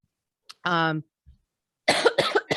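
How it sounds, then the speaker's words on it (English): A person coughs several times, a short hacking burst followed by a cluster of quick coughs, close and alone. "Excuse my coughing."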